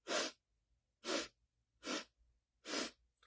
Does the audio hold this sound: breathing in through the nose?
yes